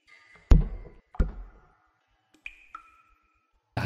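In a horror indie game, a ball is thrown and bounces across a hard floor: a few loud, close thuds with short gaps between them, then softer taps, in an otherwise quiet room.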